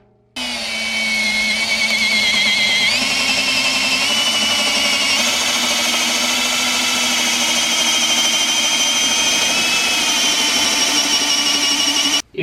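A Ridgid 18V brushless hammer drill whines steadily at close range for about twelve seconds, its pitch stepping up once early on, then it stops abruptly.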